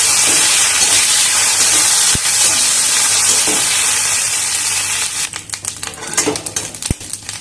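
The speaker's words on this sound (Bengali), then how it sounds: "কারি দিয়ে একটু ভেজে নিয়ে মেখে রাখা কুমড়ো দিয়ে দেবো" Curry leaves and whole mustard seeds frying in hot oil before ash gourd goes in, a loud dense sizzle and crackle that thins into sharper spitting pops, with a couple of metallic utensil knocks.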